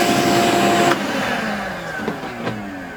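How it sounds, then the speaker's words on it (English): Vacuum cleaner sucking up dust from a PCB milling machine in a fab lab, a steady loud whine that drops in pitch after about a second and then continues at a lower drone with small bumps. "vacuum up some of the dust."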